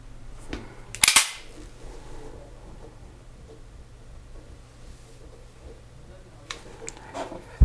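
A magazine is seated into a P210 pistol, giving one sharp, loud metallic click near the start and a fainter click later, against quiet room tone.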